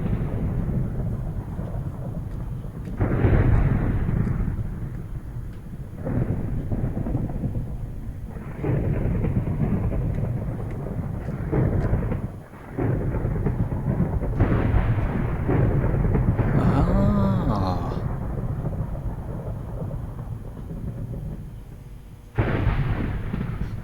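In the Minecraft video game, thunder crashes as lightning strikes a lightning rod. Repeated heavy booms and rumbles follow one another over about twenty seconds over a continuous stormy roar, with a higher crackle partway through.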